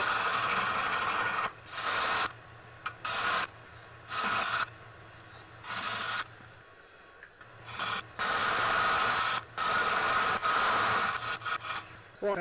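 A wood lathe turning the tenon on a hollow form vase produces bursts of hissing, scraping cuts in a repeated on-off rhythm over a low steady motor hum, close and fairly loud.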